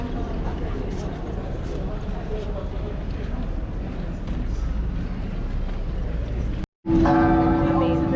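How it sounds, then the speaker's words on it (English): A church bell in Dubrovnik rings out clearly near the end, after a long stretch of loud outdoor crowd chatter and bustle, sounding with a steady sustained tone. "bell ring."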